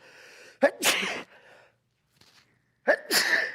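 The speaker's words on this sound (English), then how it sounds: "I'm sneezing" Two loud, close sneezes from a man during a Sunday morning Bible study, each with a sharp gasping intake and an explosive burst, separated by a short quiet pause.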